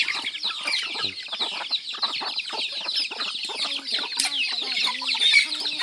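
Several chickens cluck and murmur on a farm, a busy overlapping chorus of short clucks and a few drawn-out calls, fairly close, with background chatter and no clear speech.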